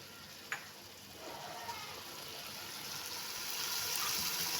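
A masala with yogurt and whole green chilies frying, a faint, even sizzle that swells slightly toward the end, with a couple of soft clinks early on.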